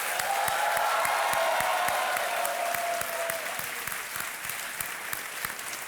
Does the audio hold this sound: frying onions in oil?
no